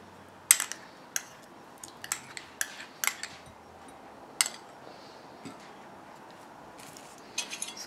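Eggs and butter are mixed in a bowl for buttermilk blueberry pancake batter, giving irregular sharp clinks of a utensil against the bowl, fairly close, over a quiet background with no talking.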